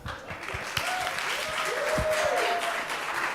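An audience applauds a volunteer at a FIRST robotics team-building session, with dense steady clapping throughout and a brief whistle-like tone rising over the noise.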